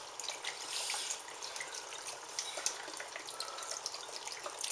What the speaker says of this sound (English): our stock and broth, Glug, glug, glug, glug, glug.